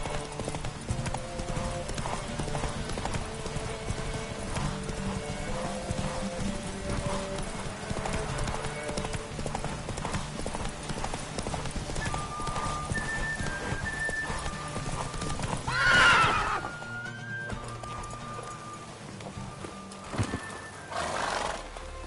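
Horse hooves clip-clop rapidly in a galloping race in the video game The Witcher III, with a loud neigh partway through and game ambience behind.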